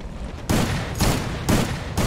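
Shotgun blasts in a battle royale video game, four loud booming shots evenly spaced about half a second apart, each with a short ringing tail, close and without voices.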